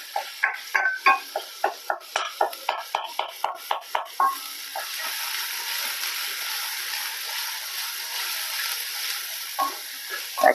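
Prawns stirred in a masala paste in a pan, with a quick series of sharp spoon scrapes and clinks followed by a steady soft frying sizzle and a few more scrapes at the end.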